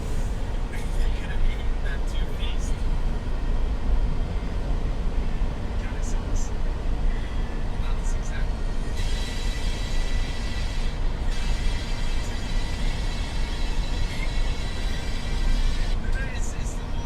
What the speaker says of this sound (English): This one's a pretty long train.